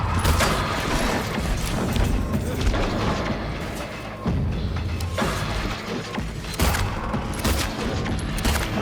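Gunfire at Pyramid Head in the Silent Hill 2 Remake on PS5: loud, dense, rapid shots that keep repeating with a couple of brief pauses, over a heavy booming game soundscape.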